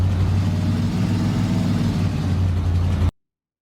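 A vintage Ford 534 cubic-inch V8 truck engine in American Truck Simulator runs steadily with a loud, throaty drone, then cuts off abruptly into silence.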